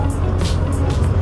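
Cars crawling in a heavy traffic jam in Dublin, heard from a small motorcycle: a steady low engine rumble with a few brief hissy swells, continuous and fairly loud.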